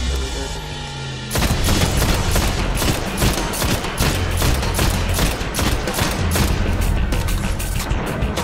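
Gunfire in Destiny during a boss fight: after a quieter start, rapid, loud shots fire repeatedly for several seconds in a dense, steady rhythm.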